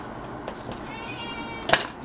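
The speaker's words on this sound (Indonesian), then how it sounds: "Gue lagi ngomong sama kucing gue nih" A pet cat meows once, fairly close and short, in a home kitchen where snacks are being made, with light background noise around it.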